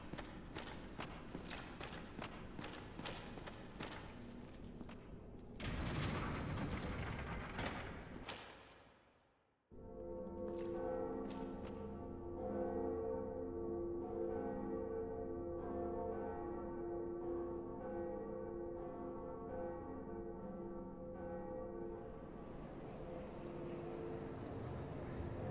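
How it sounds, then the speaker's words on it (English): The bell of awakening tolls in the Dark Souls video game, with loud repeated strikes whose ringing tones sustain and decay, punctuated by a brief dip before another long resonant ring. "Time to ring the bell."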